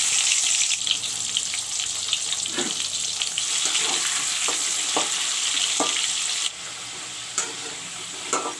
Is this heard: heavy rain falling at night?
no